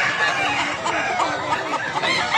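Chickens and roosters at a poultry market in Mantalungon, Barili, Cebu cluck and chatter in a steady, busy chorus, with market noise and voices mixed in close around them.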